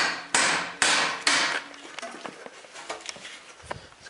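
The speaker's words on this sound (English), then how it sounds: "It's called the slide hammer." Slide hammer being struck repeatedly to pull off a car part, three sharp metallic impacts each ringing briefly, followed by quieter clinks and handling noise, close and loud.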